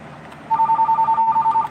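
A phone rings with an incoming call: a single burst of rapid, warbling electronic trill tones, close and clear over a low background hum.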